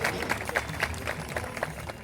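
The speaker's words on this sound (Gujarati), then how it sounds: "જોરદાર તાળીઓના નાદ સાથે આપણે માતુશ્રીને વધાવીએ." A crowd at a religious gathering on a pilgrimage to Dwarka claps in a spread-out, moderately loud patter of applause with irregular claps, heard from a short distance.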